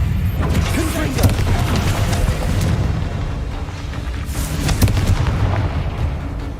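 A Confringo fire-blast spell going off in a Harry Potter video game, a loud, continuous rumbling roar with heavy booms and crackling impacts layered through it.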